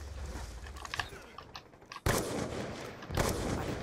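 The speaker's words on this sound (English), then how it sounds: "watch this shotgun" Shotgun blasts in a video game private match: two loud, abrupt broadband bursts, each sustained with a rumbling tail, after a quieter stretch of scattered game noise.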